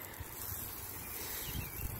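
Wind blows steadily outdoors on a rooftop, a low buffeting rumble with broad hiss and occasional gusts, no voices.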